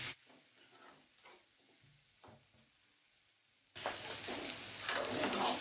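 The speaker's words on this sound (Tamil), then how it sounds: "ஆனியனோட பச்சை வாசனை போகிற வரைக்கும் லைட்டாக வதங்கினா போதும்" Onions sauté in oil in a pan, first as a quiet stretch with a few soft stirring scrapes, then as a loud, continuous sizzle that swells over the last couple of seconds. No one speaks.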